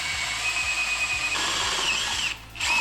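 Electric drill whining steadily as it enlarges holes in metal parts for a steering rework on an electric vehicle, loud and close, briefly easing off near the end before spinning up again.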